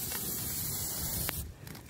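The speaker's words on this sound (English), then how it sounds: "But I spray the grill down so that you don't have any sticking" Cooking oil sprayed onto a grill over an outdoor campfire gives a steady, close hiss for about a second and a quarter, then cuts off, leaving quieter crackling fire ambience.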